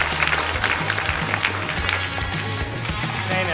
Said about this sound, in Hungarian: Egy nagy tapsot a hölgynek.